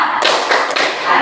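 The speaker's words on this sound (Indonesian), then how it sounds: "Tepuk semangat." A class claps a rhythmic spirit clap while standing, a dense burst of many hands slapping together up close, loud and continuous for about a second.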